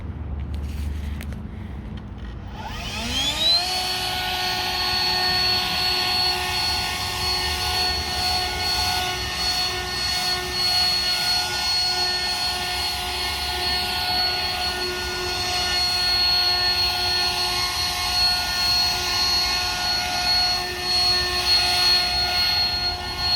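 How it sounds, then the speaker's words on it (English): A leaf blower clearing moss from a roof spins up after a couple of seconds into a steady, loud whining roar with a strong tonal pitch that holds for about twenty seconds. "Got a blower here."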